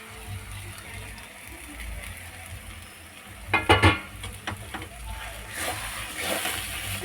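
Grated tomato stirred in a hot frying pan for a chili fritter potato filling, with a short burst of scraping and sizzling midway, then softer frying hiss.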